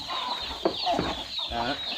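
Chickens kept in a backyard flock cluck in short repeated bursts, moderately close, over steady farmyard background noise with no talking.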